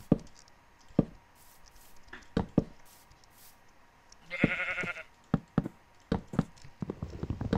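A Minecraft sheep gives one short, quavering bleat amid scattered sharp in-game taps and block-placing clicks.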